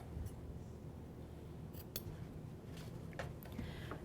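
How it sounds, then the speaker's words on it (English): Scissors snip off the tips and corners of a fabric flying geese quilt block, several crisp close cuts spread irregularly over a quiet background. "Just trim off those tops"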